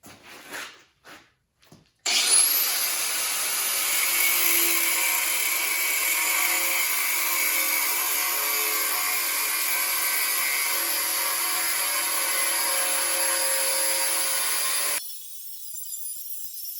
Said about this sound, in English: For that, I'll just use my cutoff wheel.